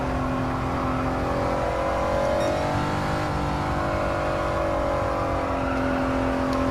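A Honda NSX Type R runs steadily around a race track, its engine holding a continuous loud drone with smooth tonal pitch shifts as it accelerates and lifts, close and alone with no talking.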